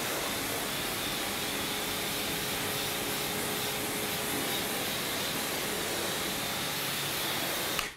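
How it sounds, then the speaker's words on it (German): A pressure washer sprays a steady, hissing jet of water across a BMW M car, rinsing off a shampoo and clay film; the rushing spray stays loud and even throughout, with no voices. "Jetzt strahlen wir aber erstmal hier den ganzen Shampoo-Film oder Clayloop-Film runter, damit wir das Fahrzeug im Anschluss trocknen können."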